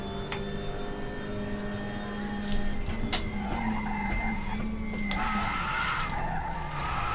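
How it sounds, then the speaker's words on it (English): Touring car tyres sliding and squealing under braking in a racing video game, a sustained tonal screech over steady engine drone, loud and continuous with no talk. "as soon as I hit the brakes, I'm just immediately sliding"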